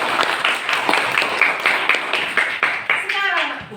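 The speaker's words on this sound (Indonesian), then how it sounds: "Silakan dulu tepuk tangan buat John." Audience clapping for John at a junior high school Christian religious education class, a quick patter of hands with children's voices chattering over it throughout.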